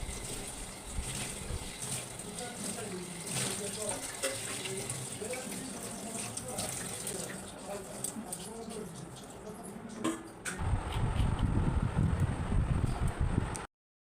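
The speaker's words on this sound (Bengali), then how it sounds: "থালাটা ধুয়ে আমি চলে যাব" A dinner plate washed under a running kitchen tap, with a steady close water stream and soft clinks, then a louder, harsher gush of water near the end.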